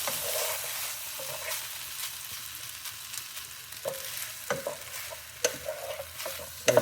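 Pork belly fried rice being stirred and tossed in a hot pan, a steady sizzle of frying under repeated scraping and clacking of the utensil against the pan, close and fairly loud with no talking.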